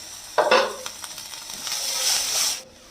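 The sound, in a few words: lid being opened on a cooking pot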